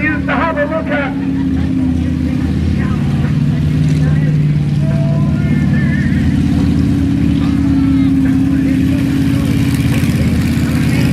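A monster truck drags two halves of a wrecked car around an outdoor show arena, its loud engine droning steadily at low speed while a voice talks over a loudspeaker.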